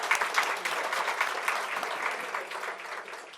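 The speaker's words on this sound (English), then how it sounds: "Please give them a warm round of applause," An audience at a book launch applauds the panelists with dense, steady clapping throughout, slowly tapering off toward the end.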